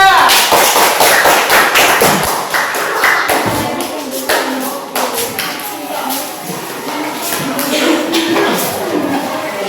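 Classroom applause for a student group after a presentation, a burst of scattered hand claps and taps from students, fairly close and loud, with some voices mixed in.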